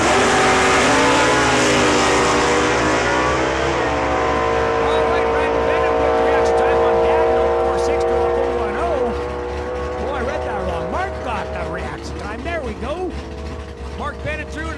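A Mopar and a Ford race car roar at Saskatchewan International Raceway. Loud engine tones climb and then fade as the cars pull away, and a voice carries in the background.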